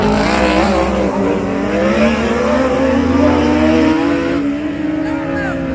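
Speedway motorcycles race on opening night, their engines droning loudly and continuously with pitch rising and falling as the bikes accelerate, a steady snarling roar throughout with no pause.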